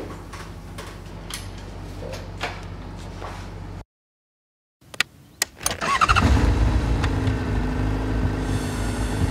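A Honda CBR600RR motorcycle engine rumbles and builds to a loud, steady roar after a stretch of clicks and a brief silence.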